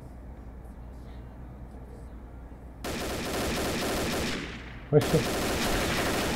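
Bursts of rapid gunfire from the Combat Arms shooter game start abruptly after a quiet stretch, then a sharp shot or two and more sustained firing follow, with a player speaking faintly over it.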